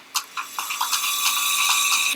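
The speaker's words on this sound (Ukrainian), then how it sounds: "Порохотяг працює ну просто суперськи, не дивлячись на свою простоту." A simple mini vacuum cleaner starts with a few clicks and short bursts, then settles into a steady high-pitched whining motor drone, close and fairly loud with no voices.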